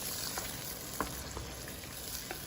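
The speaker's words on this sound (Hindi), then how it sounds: "तो अब हमारे आलू अच्छी तरह से भुन चुके हैं" Potatoes frying in a spiced masala for an eggplant and potato curry: a steady close sizzle with a few soft stirring scrapes and clicks, no talking.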